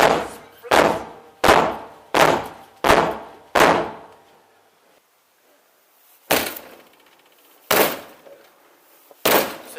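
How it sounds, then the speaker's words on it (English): Police kick at a residential door, giving five heavy booming thuds in quick succession, then a pause, then three more spaced blows, loud and close. "We're gonna kick your door open."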